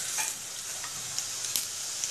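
Cumin seeds hit hot oil and crackle into a bright, continuous hiss that stays loud and close for the whole moment, with a couple of small pops near the end.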